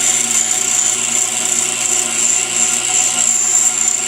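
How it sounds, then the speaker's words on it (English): A pedestal grinder grinding a lathe tool gives a loud, steady, high-pitched whine with continuous abrasive rasping close up. "Took a little bit for my grinder to warm up so it quiet down."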